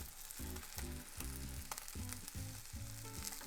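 Cheese tacos sizzle in a non-stick skillet, a constant crackling fry layered with repeated low scraping and pressing sounds, fairly quiet and close.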